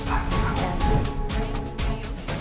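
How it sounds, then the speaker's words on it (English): Two dogs bark and yip in a house while chasing off a black bear, a loud, busy run of overlapping barks with bumps and clatter, close and continuous. "her two dogs barked and chased it out of the house"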